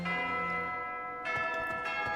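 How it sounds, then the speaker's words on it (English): Church bells ring in the video game Fire Emblem: Three Houses, a steady tonal peal with sustained overtones and fresh strikes partway through, playing alone at moderate loudness. "that's the bells to go"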